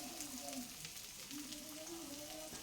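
Chopped onions fry in hot mustard oil with a soft, steady sizzle. Faint tonal sounds drift above the sizzle and no one speaks.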